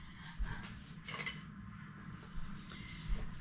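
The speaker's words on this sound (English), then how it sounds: "now we have to try and stir" A spoon works through a massive pot of tomato canning mix with onions and peppers, giving faint, intermittent scraping and soft clunks against the pot, quiet and close.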